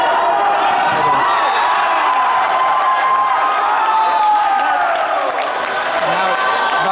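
A large crowd cheers loudly and continuously at a high school basketball semifinal at Fort Hamilton, a dense roar of voices and applause filling the gym, with talk mixed in.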